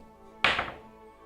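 A twenty-sided die lands once on a table during tabletop role-playing character creation for the game Cairn, giving a single close, dull thunk that fades quickly into quiet.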